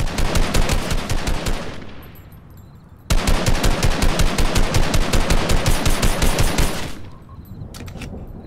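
Rapid automatic gunfire in Fortnite, close and loud, with two long bursts of evenly spaced shots split by a short pause and a fading tail at the end, with no talking over it.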